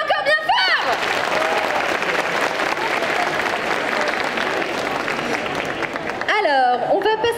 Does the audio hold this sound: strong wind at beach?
no